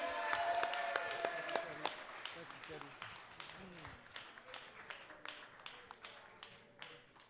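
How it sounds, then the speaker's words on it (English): Scattered clapping from an audience, dense at first and thinning into separate claps, with some talk and music-like tones underneath. "Let's give a round of applause."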